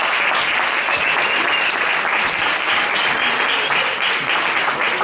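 A studio audience applauds to welcome an investigative reporter onto a French television set, a dense, even roar of clapping that holds loud and unbroken throughout.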